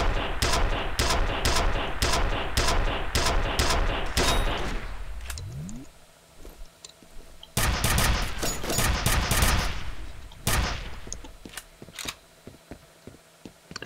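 Gunfire in the video game F.E.A.R., rapid evenly spaced automatic shots in loud bursts, a pause with a rising whine, then more sustained firing and scattered single shots.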